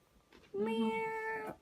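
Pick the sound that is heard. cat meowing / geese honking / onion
cat meowing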